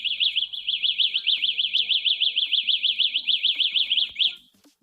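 An electric scooter's alarm locator, on a license-free electric moped, sounds a loud, rapid, high-pitched warbling electronic chirp. It repeats steadily for about four seconds, then cuts off. No voices are heard.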